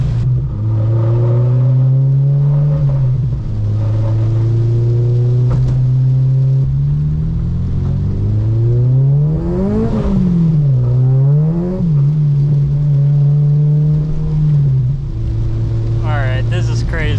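A supercharged 400hp Acura RSX drives through a hurricane, its engine loud and close, rising and falling through repeated revs and gear changes amid road and water noise.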